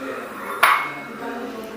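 Onion is dropped into a yam mixture in a dish, making one sharp clink against the dish followed by a short rustle, then low room noise.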